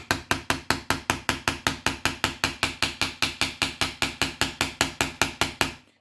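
A hammer taps a part into a Crosman A4-P adjustable air pistol stock, sharp evenly spaced light knocks, roughly four or five a second, steady and close for about six seconds before stopping.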